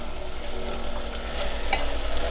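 Chopped onion softens in a pot with a soft, steady sizzle while a utensil stirs it, giving light scraping and a couple of brief clinks at close range.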